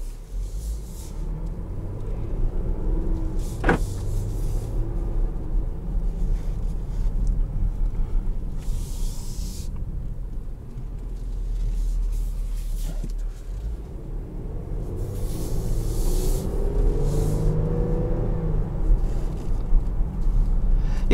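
Engine of a 2021 Dodge Durango GT Blacktop Edition with a ZF 8-speed automatic, a steady low drone while driving, mixed with road and wind noise, no voices present.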